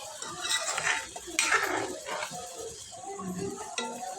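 Eggplant curry with jaggery stirred in a pan, with scraping and clinking of the spoon against the metal and a soft sizzle underneath, close up in a couple of bursts.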